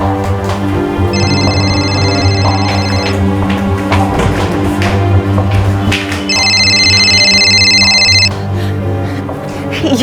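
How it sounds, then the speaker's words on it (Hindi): Mobile phone ringing from a bathroom, two bursts of an electronic ringtone about two seconds each separated by a pause, heard indoors over a steady background hum with dramatic music. "माँ, ये फोन किसका बज रहा है? शायद बाथरूम से आवाज आ रही है"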